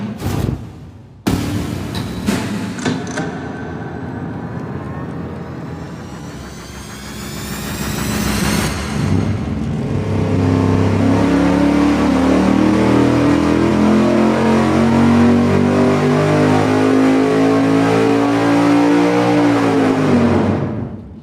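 A V8 engine on a dyno runs a power pull, with an early blip and a roar that climbs steadily in pitch and stays loud to the end. Its firing order has the 4 and 7 cylinders swapped.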